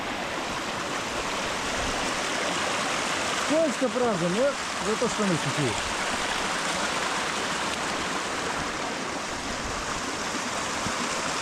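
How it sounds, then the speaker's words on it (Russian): Small mountain stream in the Altai flowing steadily as broadband rushing water throughout, close and continuous, with someone speaking briefly over it. "Небольшой ручей, идти можно."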